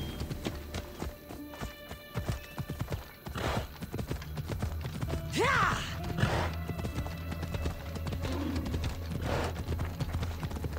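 Rapid rhythmic horse hoofbeats clip-clop continuously in the video game Assassin's Creed Odyssey, with a horse whinnying midway, over a low ambient drone.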